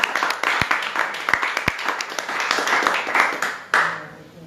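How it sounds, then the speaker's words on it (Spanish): A church congregation claps during a Sunday morning service, a few sharp individual claps rising into scattered, uneven applause that builds and then fades. "Yo creo que Dios merece un aplauso en esta mañana."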